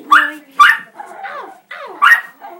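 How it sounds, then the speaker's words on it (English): A Shiba Inu puppy barks indoors, a quick run of high yips and short barks mixed with whiny whimpering notes, close and loud with brief gaps between them. "He's barking at us."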